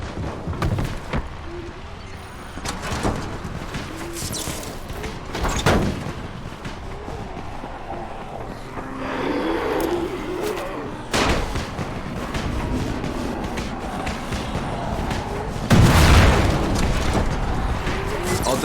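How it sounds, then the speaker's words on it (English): Firecrackers popping in the zombie game Dying Light, with a string of sharp cracks and booms scattered over loud, dense game noise, and a voice speaking at times beneath them. "You still have some firecrackers, don't you? Just throw some into the crowd."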